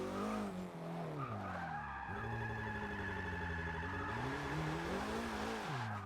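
Tires of a Porsche 944 Turbo squeal and skid through a drift in the racing game Forza Motorsport 6, with engine revs rising and falling under long, wavering screeches.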